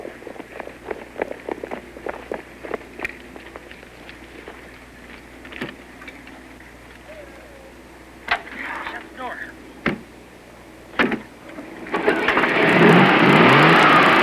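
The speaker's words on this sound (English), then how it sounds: "Now let's see if the engine will start." A 1963 Chevrolet that has just finished a rollover test cranks, then catches and roars into a loud, sustained run near the end, after a stretch of footsteps and scattered knocks and clatter.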